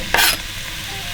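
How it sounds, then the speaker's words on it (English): Chicken stir frying in about 10 ml of olive oil, with a short burst of stirring and spatula scraping near the start. A steady sizzle runs quietly underneath, and a faint clatter comes at the very end. "this is gonna take a bit longer to stir fry"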